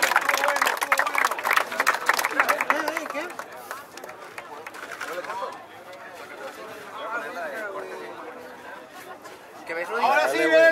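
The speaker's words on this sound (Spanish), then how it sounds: "Tiempo, tiempo, un fuerte aplauso." A crowd at a freestyle rap battle semifinal claps and cheers loudly at first, then fades into chatter and shouting, with a host talking over the noise before the cheering rises again.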